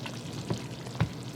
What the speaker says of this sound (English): we got a full-on raging boil